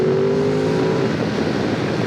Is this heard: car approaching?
yes